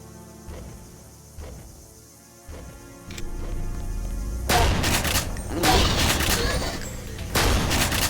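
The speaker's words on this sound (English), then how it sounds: "People might have heard the gunshots" Gunfire from the video game Deus Ex starts as a few isolated shots, then turns into loud, rapid bursts of blasts and impacts in the second half, with dense, crashing volleys.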